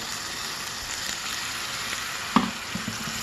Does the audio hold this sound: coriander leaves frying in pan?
yes